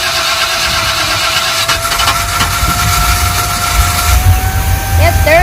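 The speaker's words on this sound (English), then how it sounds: "The engine is happy." An engine catching on its third start attempt and settling into a steady running drone, loud and close, with a sustained tonal whine rising slightly near the end.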